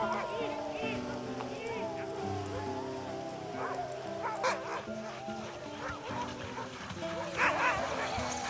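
Sled dogs on a winter ice tour near Sisimiut, a few scattered eager barks and yips at a middle distance, partly buried under steady background sound and a voice talking.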